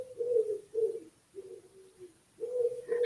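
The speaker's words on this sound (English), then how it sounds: "Perhaps the pigeons are cawing outside your window, outside your door." A pigeon coos outside a window: four or five soft, low, rounded coos in a loose repeating rhythm, fairly close and clear against a quiet background, with no talking.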